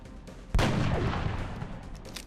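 A single heavy gunshot in the turn-based strategy game XCOM on Impossible Ironman, one sharp loud blast followed by a long rumbling decay that fades over the next couple of seconds.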